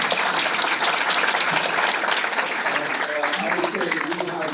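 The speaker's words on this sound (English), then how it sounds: "Big round of applause." Steady, dense applause fills the space at a strong, even level, continuous clapping from a crowd with no break for the full stretch.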